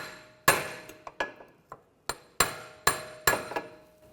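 A hammer strikes a large punch against the back of a CV axle to drive it out of the front differential on a 2009-2013 BMW 328i xDrive 3.0L. About nine sharp metallic taps ring out close up at an uneven pace.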